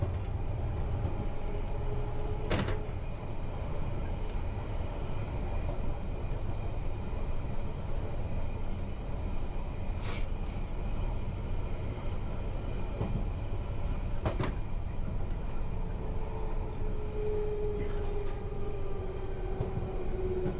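London Underground Piccadilly Line train heard from onboard near Oakwood and its depot, a steady loud rumble of wheels and motors with intermittent clacks and squeals over rail joints throughout.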